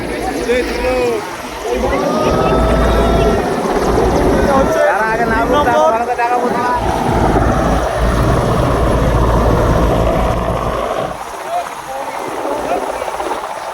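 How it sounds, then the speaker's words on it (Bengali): A helicopter carrying India's Prime Minister lands in Haripal, West Bengal, its loud steady rotor roar filling the scene as dust blows up, with people talking and shouting nearby under the noise. "আর আমরা কিন্তু এতটা রাস্তা এসেছি শুধু এইটুকু দেখার জন্য যে মোদিজি কিরম ভাবে ল্যান্ড করছেন"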